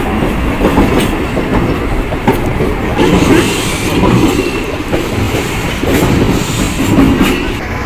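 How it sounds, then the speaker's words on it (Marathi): A passenger train arrives at Palasdari railway station in Maharashtra, with a loud, close, continuous rumble and rhythmic clickety-clack of wheels over rail joints throughout, and no voices. "पळसदरी स्टेशनावरती आपल्याला शेलू जाण्याकरता जी ट्रेन आली आहे"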